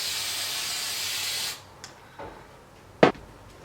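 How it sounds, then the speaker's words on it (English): Aerosol hairspray hisses steadily onto hair roots for about a second and a half, close and fairly loud, then stops, followed by a few faint handling taps and a brief knock. "I'm just going to apply some hairspray to the roots"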